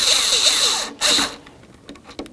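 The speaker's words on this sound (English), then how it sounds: "Continue on to each of your 4 mounting screws" A power driver runs mounting screws into the plastic door panel of a 2003–2007 Honda Accord during a master window switch swap, two short whirring bursts nearby followed by faint clicks.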